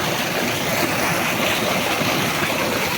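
Irrigation water flows through a channel in a farm field, a loud, constant broadband rush and gurgle that stays even throughout, with no speech.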